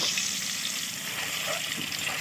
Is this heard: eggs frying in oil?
yes